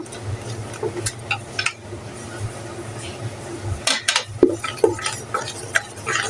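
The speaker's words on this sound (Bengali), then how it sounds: "এভাবে চালনিতে ছেঁকে নিবেন" Blended tomato sauce is pushed through a sieve in a home kitchen, with uneven scraping, tapping and light clinks of a spoon against metal, and a voice speaking over it.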